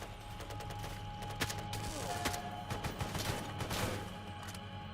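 Gunfire in the video game Stalker Gamma, with a burst of fast, sharp reports rattling over a steady ambient bed at moderate loudness.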